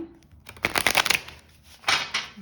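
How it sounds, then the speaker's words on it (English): Tarot cards are shuffled in two quick riffling bursts, crisp and close, with a brief pause between them and no talking. "let's do 3 more shuffles"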